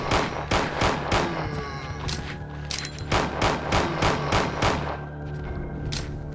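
Rapid bursts of gunfire crack out repeatedly in the video game Resident Evil 2, loud and close, with brief pauses between volleys and a few deeper thuds.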